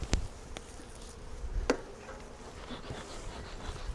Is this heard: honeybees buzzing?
yes